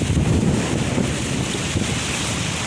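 Strong wind buffets the microphone in a steady roar, with the wash of sea and surf mixed underneath at Mullion Cove, Cornwall; no voices.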